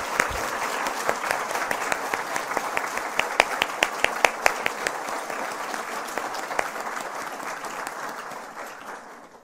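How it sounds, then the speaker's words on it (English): A large audience at a women's symposium gives a sustained round of applause, with dense, even clapping at moderate distance that slowly fades toward the end, no voices on top. "Let's give her another huge round of applause."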